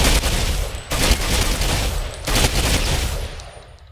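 MG360 machine gun in Ghost Recon Phantoms firing a long, rapid, continuous burst, loud and close, with two brief pauses between stretches of dense gunfire and a tail fading at the end.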